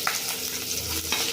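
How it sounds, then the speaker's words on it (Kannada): Onions sizzle and fry in a pan with curry leaves, garlic and green chillies while a greens and moong dal stir-fry is prepared; a steady close crackle runs throughout, with a few brief stirring scrapes and no talk. "ನೋಡಿ ಈಗ ಈರುಳ್ಳಿ ಎಲ್ಲ ಚೆಂದಾಗಿ ಫ್ರೈ ಆಗಿದೆ"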